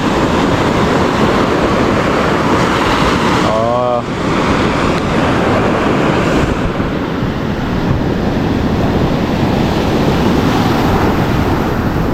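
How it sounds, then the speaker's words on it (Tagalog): Powerful ocean waves at Bukana crash and roar without pause, wind rumbling across the microphone, with a brief voice breaking through partway. "Sobrang lakas yung alon ngayon"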